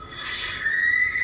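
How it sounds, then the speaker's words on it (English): A high, piercing shriek rings out at the scene of an incident in a news recording, a sustained squealing tone over a low noisy background, fairly loud and without speech. "this terrifying shriek made my hair stand on end"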